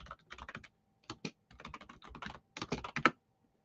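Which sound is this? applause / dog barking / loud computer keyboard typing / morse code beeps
loud computer keyboard typing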